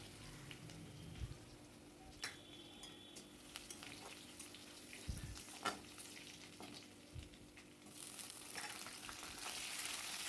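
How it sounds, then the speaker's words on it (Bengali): Garlic and green chillies sizzle quietly in hot oil in a pan, a soft steady crackle with occasional stirring clinks and scrapes, rising slightly toward the end. "একটু রসুনটা ভাজা হবে তারপরে কাঁচা লঙ্কা দিয়ে দেবো"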